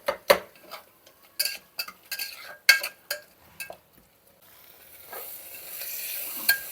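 Masala with prawns for a prawn biryani sautéing in oil in a pan: a run of sharp spoon clinks and scrapes against the pan, then a rising, steady sizzle on its own.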